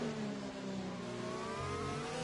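Formula 1 car engine in a racing game accelerating out of a corner in a Haas at the Hungarian Grand Prix, a steady high whine rising smoothly in pitch, moderately faint and continuous.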